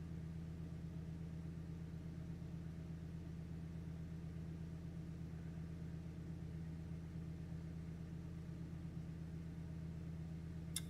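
Steady, unchanging idle of a car engine fitted with a JDM header and G35-900 turbo on high-ethanol fuel, running lean; a constant low rumble holds evenly throughout with no voices.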